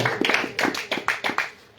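Congregation at a Spanish-language worship service clapping hands loudly in a strong, steady rhythm, about eight sharp claps spaced evenly across under two seconds, close and unaccompanied by talk.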